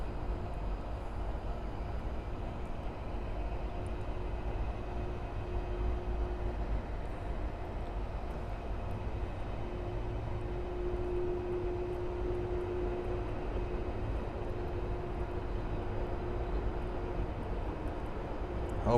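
Steady distant jet airliner rumble at Miami airport, an aircraft in a special retro livery, sustained and even for the whole stretch with a faint tonal hum and no talking.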